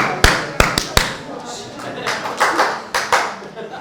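A few sharp hand claps ring out near the start of a church sermon, followed by more scattered claps under a murmur of voices.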